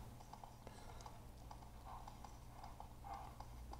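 Horse hooves clip-clop in a PS2 video game played through an emulator, a quiet, steady run of light rhythmic hoofbeats at a walking pace.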